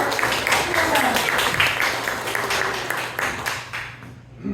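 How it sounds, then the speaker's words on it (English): An audience applauds Jim the sheep herder at a dog event, a dense burst of clapping that gradually fades away over a few seconds. "I appreciate everyone applauding"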